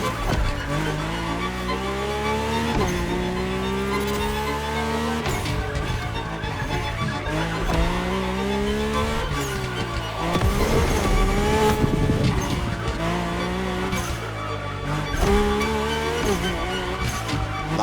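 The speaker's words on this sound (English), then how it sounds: "the Mercedes AMG 1 was indubitably on the powerful side" A Mercedes-AMG One in The Crew Motorfest racing game roars continuously, its engine climbing in pitch through repeated gear changes, with some tire squeal.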